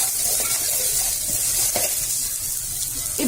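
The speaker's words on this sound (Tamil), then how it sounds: "இப்ப இது கூட சின்ன வெங்காயம் ஒரு 1/2 கப் சேர்த்துக்கிறேன். சேர்த்துட்டு நல்லா வதக்கி விட்டுறலாம்." Shallots sautéing in a hot pan give a loud, continuous close sizzle, with a few scraping stir strokes and no voices.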